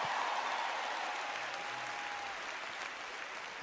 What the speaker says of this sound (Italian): un applauso all'Abruzzo, meravigliosa regione